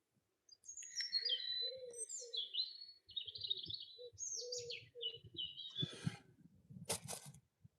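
Small birds chirp and twitter in quick bursts of high, bright notes, with soft rustling and low cooing mixed in beneath.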